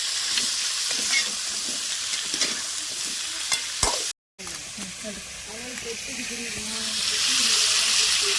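Washed crab frying with softened tomato and onion in a pan: a steady loud sizzle runs throughout, with scraping stir strokes, a brief dropout partway through, and the hiss growing brighter near the end.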